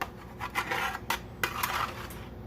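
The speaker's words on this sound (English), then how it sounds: "Try to scrape as much as I can off the sides." Pumpkin puree is scraped off the sides of a container with a utensil, giving several short, quiet rasping strokes at close range, with no talk.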